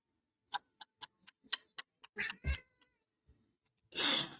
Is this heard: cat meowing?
yes